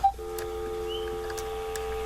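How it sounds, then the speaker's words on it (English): Steady telephone dial tone on a landline that has just come back into service, a continuous hum with a short beep at the start, heard alone for about two seconds. "I actually have a dial tone."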